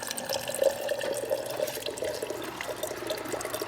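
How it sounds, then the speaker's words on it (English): A steady stream of water pours from a Whirlpool refrigerator dispenser into a glass, with a soft continuous splashing hiss and faint gurgles. "fill up a glass of water to flush those lines out"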